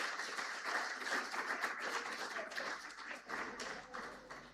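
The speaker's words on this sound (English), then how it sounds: "Can you give them a round of applause, please?" Audience at a digital policy forum applauds the Lesotho Communications Authority, with dense clapping that holds steady at moderate loudness for several seconds and carries no voices.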